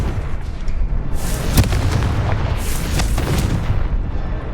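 Confringo fire spell explosions in Hogwarts Legacy, repeated loud booming blasts with sharp bursts layered over a constant rumble, close and forceful with no speech.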